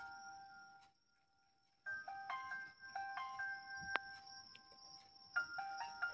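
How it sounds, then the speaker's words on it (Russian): Soft electronic tones play as relaxing music from a DYKE eye massager, a gentle chiming melody of held notes that pauses briefly and then resumes, faint and close, with no talk. "И вот такая приятная расслабляющая музыка."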